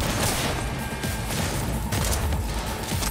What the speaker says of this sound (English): Oh, I threw a grenade at myself.